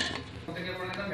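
A lid set over a pot of kadhi in a home kitchen, a few quick metallic clinks and a scrape of cookware, close and moderately loud.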